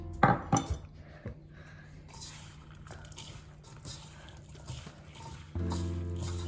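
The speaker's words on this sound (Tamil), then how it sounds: "அதோட தேங்காய் பூவையும் போட்டு மிக்ஸ் பண்ணுவோம்." Kurakkan flour being mixed with grated coconut for puttu, giving soft scraping and patting sounds with a few sharp clinks of a utensil against a bowl, close and quiet, with a brief louder stretch near the end.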